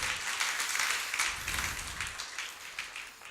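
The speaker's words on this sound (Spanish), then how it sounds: "Dale un aplauso a Dios." Church congregation applauding during a sermon, a steady wash of many hands clapping at moderate distance for a few seconds, fairly soft and even throughout.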